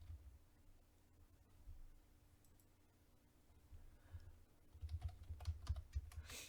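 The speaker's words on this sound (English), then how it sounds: "I'm typing." Typing on a computer keyboard at a desk, a run of soft clicks that grows louder and denser toward the end, with no voices.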